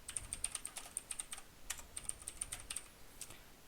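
Typing Python code on a computer keyboard, a quick run of light, close clicking keystrokes in two bursts with a short pause between, with no talking.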